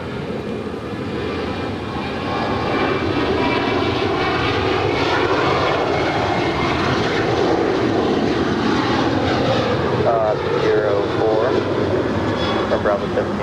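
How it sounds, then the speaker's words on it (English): American Airlines Boeing 787 Dreamliner departing LAX on an early morning flight to Dallas, a loud steady jet roar that swells after a couple of seconds and persists, with a voice talking over it. "It's that Dallas early morning 7 a.m. flight on the Dreamliner, an American."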